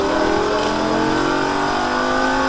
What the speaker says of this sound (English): Add the power on the way out, back to full throttle, full throttle